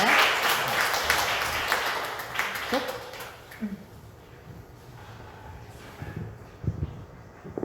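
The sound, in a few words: audience applause after lecture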